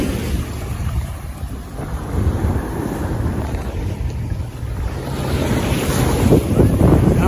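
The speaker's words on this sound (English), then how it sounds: "We've got waves crashing." Ocean waves break and wash steadily onto a beach at sunset, with jet skis nearby; a continuous roar of surf mixed with gusty wind noise on the microphone, building slightly louder toward the end.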